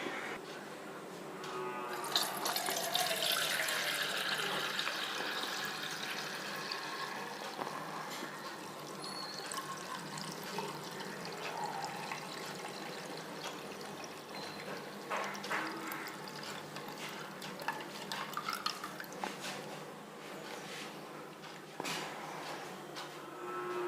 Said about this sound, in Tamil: இதை இப்போ வடிகட்டி எடுத்துக்கலாம்.